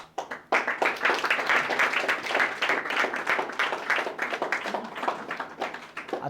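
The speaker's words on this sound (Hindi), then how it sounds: "जोरदार ताली बजाते रहो, ताली में कौन पैसा लग रहा है।" A crowd of SSC GD trainees keeps up vigorous, steady clapping for prize winners, loud and continuous throughout.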